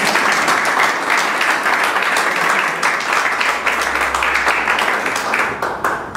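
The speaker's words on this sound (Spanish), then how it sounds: "Un aplauso para ustedes" Audience at a sales motivation seminar clapping together, a loud sustained burst of applause that thins slightly toward the end, with a low hum underneath.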